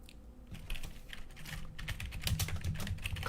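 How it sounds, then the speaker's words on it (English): A computer keyboard being typed on, with a steady run of close, crisp key clicks and presses, including the backspace key, spread through the whole stretch. "So this is the backspace key."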